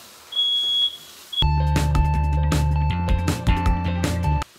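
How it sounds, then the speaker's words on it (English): A faint high beep sounds briefly, then a kitchen smoke detector's sudden loud, sustained blaring tone with pulsing overtones takes over for several seconds before cutting off, set off while cooking gumbo. "If your smoke detector goes off, that means you're doing it right."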